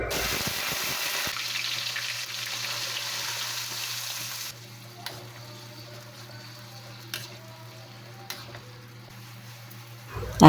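Ground spice paste for beef rendang frying in plenty of oil in a pot, a steady bubbling sizzle that drops to a quieter simmer partway through, with a few soft clinks.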